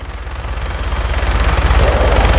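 Dense, steady automatic gunfire from a Fallout 4 firefight aboard a naval ship battling the Mirror Queen, a rapid rattling burst that keeps building in loudness over a low rumble, with no voices.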